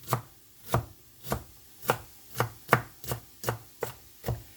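A knife chops through onion on a wooden board, ten crisp, evenly spaced thuds in a steady rhythm, close and clear with no talking.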